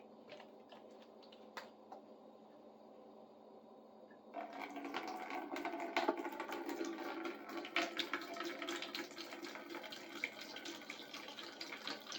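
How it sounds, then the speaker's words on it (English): Water gushes into a bucket, starting about four seconds in as a loud steady splashing rush that continues to the end, preceded by quiet clicks and taps. "I'll fill that bucket up and put all those in there"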